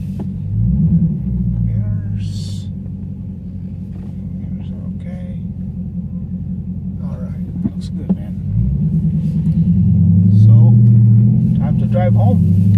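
A Dodge Charger Scat Pack, just back from a water pump replacement, rumbles as it drives, a deep steady engine drone that drops briefly and swells again, with faint voice-like sounds over it.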